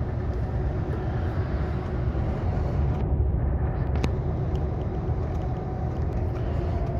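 A car passes on a road, heard as a continuous rumbling engine and tyre noise under a steady traffic hum, fairly loud throughout, with a slight shift partway through and no talk.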